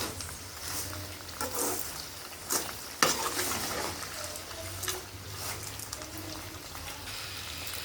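Mango pickle ingredients sautéing in hot oil in a pan, a continuous loud sizzle and crackle with occasional stirring scrapes and a sharp clack near the middle, no voices.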